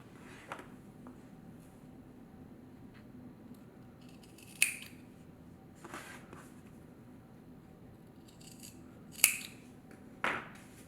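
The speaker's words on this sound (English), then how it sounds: "you're going to snip the corners here" Scissors snipping the fabric corners of a sewn pouch: a few quiet, crisp cuts spaced several seconds apart against a soft room background.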